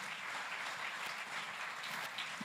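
A short burst of applause from an audience for a panel of animation professionals, even and continuous, moderately distant.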